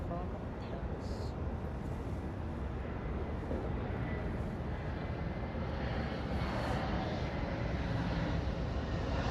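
A plane on a flight from Paris passes as a broad, steady roar heard from an airport lounge at LAX. It rumbles continuously throughout with no clear rise or fall, and a voice can faintly be heard beneath it.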